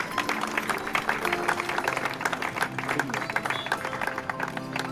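An audience at a funeral claps together in a dense, continuous patter of hands that stays moderately loud and even throughout, with voices mixed in.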